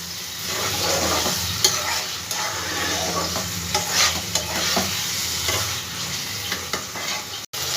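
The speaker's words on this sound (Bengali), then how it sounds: "ভালো করে আরও 2 থেকে 3 মিনিট একটু আমি কষিয়ে নেব।" Fried pointed gourd being stirred and sautéed in a pan for a Bengali posto dish, a steady sizzle of frying with repeated scraping stirs, close and continuous with no talk.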